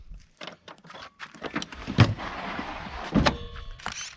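A storage drawer in a truck bed camper slides open, giving a scraping glide with a couple of solid thunks and knocks, close and moderately loud, with some rattling at the end.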